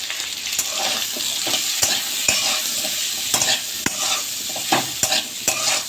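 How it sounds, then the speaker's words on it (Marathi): A spoon stirs red chili powder and onion-garlic masala into a raw mango pickle mixture, making repeated sharp scrapes and clicks against the pan over a constant soft sizzle, close and fairly loud. "आपण आता लाल तिखट व कांदा लसूण मसाला ॲड करून हे मिश्रण चांगल्या प्रकारे हलवून घेऊ।"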